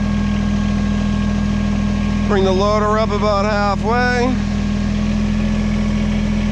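Kubota BX23S compact tractor with front loader and backhoe, engine running steadily and loud throughout, with a voice speaking over it partway through.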